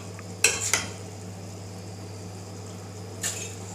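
A spoon scrapes and clinks against a pot while stirring tomato rice, two quick knocks early and another a few seconds later, over a steady low hum and quiet background.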